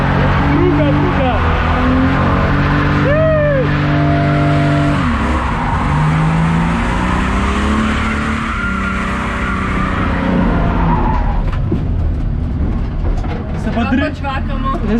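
A drift car warms up its drift tires at the Racegasmic drift track in Ljubljana, with a revving engine and long tire squeals swelling and fading for the whole stretch, loud and near, while voices talk over it.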